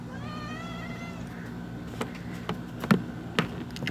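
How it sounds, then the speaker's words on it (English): A cat meows a few times at the start, followed by scattered soft taps and knocks in a quiet room. "I apologize if you can hear my cat in the background."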